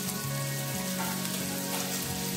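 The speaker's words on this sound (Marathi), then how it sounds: "कांदा छान परततो आणि मसाल्यामध्ये मीठ असतं, त्यामध्ये थोडंसं मीठ टाकायचं शिजताना।" Chopped onion sautéing with salt and spices in a hot pan for Schezwan fried rice, a steady close sizzle with a faint continuous hiss and some soft stirring.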